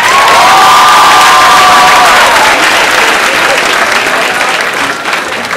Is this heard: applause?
yes